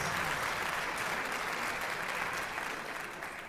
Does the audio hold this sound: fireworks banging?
no